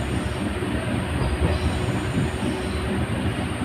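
Passenger train between Kolkata and Kashmir rumbling along with steady wheel noise and faint squeal, a continuous loud interior roar with no voices.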